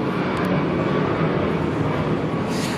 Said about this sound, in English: You could hear a plane flying over now.